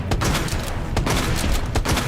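Shotgun blasts in Resident Evil 2, a quick run of loud, sharp reports packed into a couple of seconds with a rumbling game backdrop and no talk.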